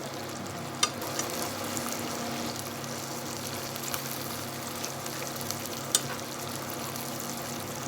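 Garlic sizzles in a hot pan with a steady, moderate frying hiss and a couple of brief clicks, no talking.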